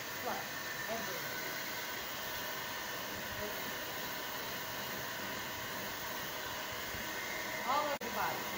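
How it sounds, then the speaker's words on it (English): A stand dryer blows steadily on a Bichon Frise during brushing, a constant airy hiss throughout with brief faint voice-like sounds near the end. "go ahead and use the stand dryer on the whole body while you brush up"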